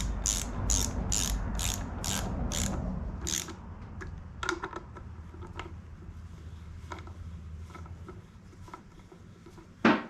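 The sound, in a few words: ratchet drawing up bolts on Subaru EJ25 engine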